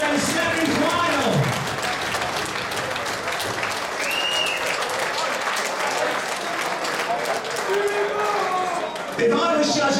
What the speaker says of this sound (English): It's worth another round of applause, ladies and gentlemen.